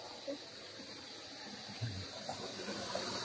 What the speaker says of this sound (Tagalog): Tapos yung tubig yan, ayun yung tubig galing sa palaisdaan, no? Inilalabas.